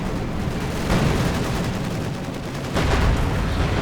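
Sustained armor-piercing gunfire in a World War II strategy video game, a dense continuous roar of shots with two louder bursts about a second apart, heard alone without talk.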